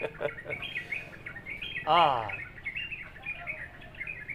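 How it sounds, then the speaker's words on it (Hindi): Small birds chirp and tweet in quick bright bursts, one louder descending call standing out, over a quiet outdoor background. "चिड़िया की आवाज़ सुनिए जब आप प्राणायाम करेंगे।"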